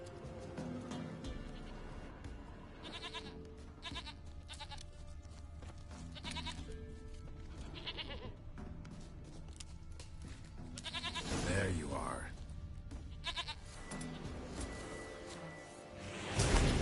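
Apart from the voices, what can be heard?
goat bleating in The Witcher III video game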